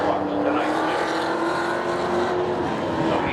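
Race cars roaring around the oval at Seekonk Speedway, a dense, steady engine drone with a sustained pitched whine, loud and continuous with no gaps, a commentator's voice faintly mixed underneath.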